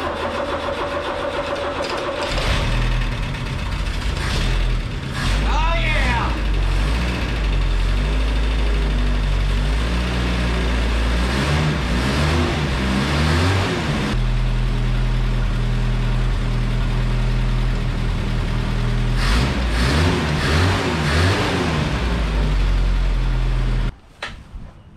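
An old mini U-Haul box truck that sat for 35 years cranks and fires up, then its engine runs loud and close with uneven revs and surges before cutting off at the end.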